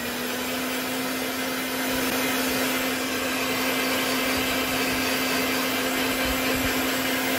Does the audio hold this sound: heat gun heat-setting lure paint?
yes